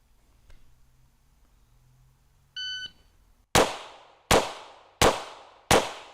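Pistol fired in a timed marksmanship drill: a shot-timer beep, then four loud, sharp shots spaced evenly about three-quarters of a second apart, close by, with no talking.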